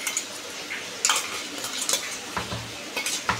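Green chilli and peanuts being mixed together in a pot or bowl for a quick fasting-day appe recipe, with spoon scrapes and clinks against the vessel, some louder knocks, and a soft sizzle underneath.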